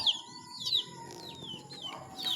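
Young chicks peeping while the mother hen is away up in a tree, with repeated high, downward-sliding cheeps at close range and soft background rustling, faint and without talk.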